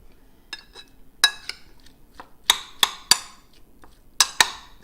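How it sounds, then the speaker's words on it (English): A metal utensil clinks and taps against a bowl while mixing corn salsa and breaking up the corn kernels, several sharp, close, irregular clinks separated by quiet gaps. "And now you're just going to mix all that together. And this is where I break up the corn kernels."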